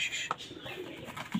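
Pet birds just let out of their cage give a soft, brief cooing call like a dove, fairly quiet and a little distant over faint background noise.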